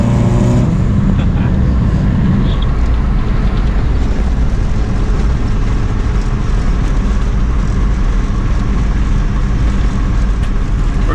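A 1994 Toyota Corolla racing a Volkswagen Passat on a highway, heard as a loud, steady engine and road roar from inside the car with wind noise throughout.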